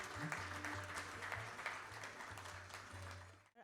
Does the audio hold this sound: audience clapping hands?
yes